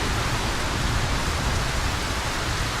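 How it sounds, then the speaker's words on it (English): Heavy rain in the video game Ylands, a dense, loud, unbroken hiss of downpour filling the whole stretch with no talking. "it's absolutely tipping it down with rain"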